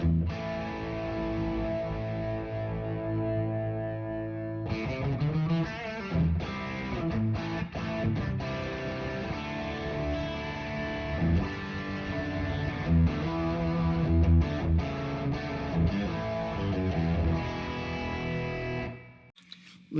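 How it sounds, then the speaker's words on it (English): Electric guitar through a distortion pedal with no Univibe, playing a soft sustained tone before a steady, loud stretch of driven chords and riffs that cuts off abruptly near the end. "My distortion without the Univibe sounds like this."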